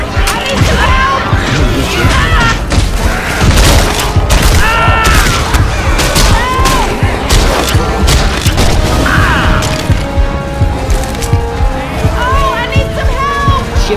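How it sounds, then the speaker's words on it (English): Grenade launcher explosions in Left 4 Dead 2 on a Half-Life 2 Ravenholm custom map: dense, loud booms and crashes pile up continuously amid chaotic gunfire and combat noise, with character voices shouting throughout. "Taking the grenade launcher."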